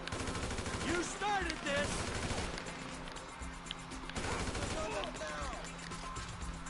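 Rapid AK-47 automatic gunfire in GTA 5, bursts of shots crackling repeatedly alongside crashes and chaotic combat noise, with a voice speaking briefly over the firing.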